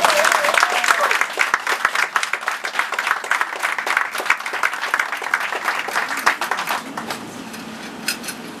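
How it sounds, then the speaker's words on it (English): An audience at the Thirsty Curls Afrolicious Affair in Bermuda applauds for the performer Brown Sugar, with loud, dense clapping that holds steady for several seconds and then thins out toward the end. "Please put your hands together for Brown Sugar"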